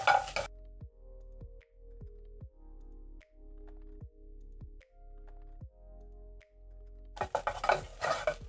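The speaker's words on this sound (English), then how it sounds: "Then I'm going to stir in and cook until fragrant." Garlic cooking in a pot is stirred in a steady rhythm, each pass giving a soft scrape against the pot over a low background hum, with louder clatter at the start and end.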